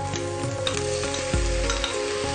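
Pieces of mutton fry with cloves and cinnamon in a pan, giving a steady close sizzle broken by a few soft stirring knocks, with no voices.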